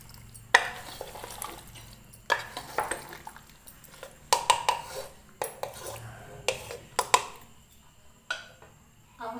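Pav bhaji vegetables are mashed inside a pressure cooker, giving repeated sharp metal clanks and scraping strokes at an uneven rhythm, close and fairly loud, with quiet stretches between the strikes and no talking.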